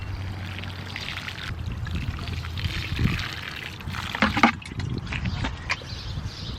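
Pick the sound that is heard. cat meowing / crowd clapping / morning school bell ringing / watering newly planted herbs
watering newly planted herbs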